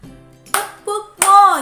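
A few sharp hand claps in a children's monkey clapping game, spaced irregularly and mixed with a short sung or chanted voice.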